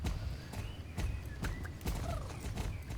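Rhythmic horse hooves clip-clopping in the video game Star Stable, a steady close trot of repeated hoofbeats over a dense in-game background with no talking.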